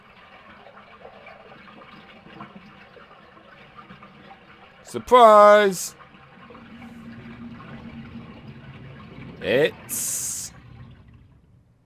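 Muddy water draining from an unplugged bathtub in Resident Evil: a low, quiet gurgling trickle under sparse game sounds and short bursts of speech.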